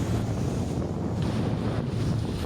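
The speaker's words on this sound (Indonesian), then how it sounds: "pencarian terhalang tingginya gelombang dan angin kencang" Strong wind buffets the microphone at sea while high waves surge and roar in a continuous low rumble, loud and close, with no talk.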